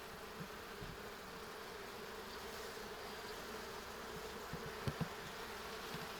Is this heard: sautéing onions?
no